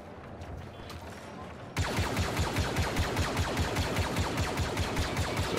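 Rapid repeated shots from a shotgun in the Star Wars Battlefront II multiplayer beta, a steady loud burst of blasts that kicks in abruptly after a quieter stretch of game ambience.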